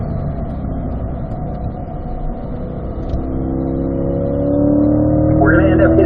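A 2020 Corvette Z51 on a race track braking and downshifting to fourth gear, the engine a steady in-car drone that swells and rises in pitch near the end, with a driver talking over it.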